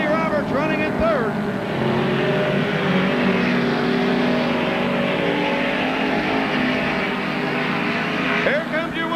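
Midget race cars roar around the track on the final lap of a heat race, their engines a loud, sustained drone. An announcer's voice runs over the noise.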